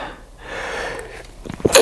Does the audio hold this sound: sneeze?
yes